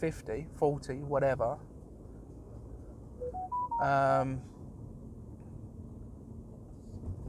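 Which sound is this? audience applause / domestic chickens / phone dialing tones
phone dialing tones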